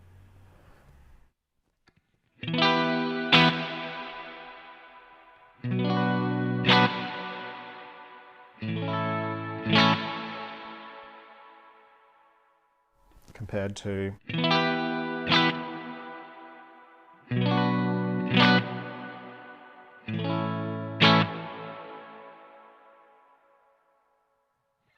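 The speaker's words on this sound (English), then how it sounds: "a quick little run through of the Silver Sky Reverb" Electric guitar strums several chords through a Mad Professor Silver Spring Reverb pedal, each ringing out into a long, splashy spring reverb tail before the next one begins.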